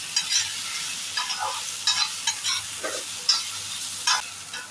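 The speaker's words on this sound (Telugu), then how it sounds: "అందులోకి వేయించి పెట్టుకున్న తోటకూర లివర్ని వేసుకోవాలి, ఫ్రై చేసుకోవాలి." Amaranth leaves and liver frying in a pan, a steady close sizzle broken by repeated scraping stirs at an even pace, with no talking.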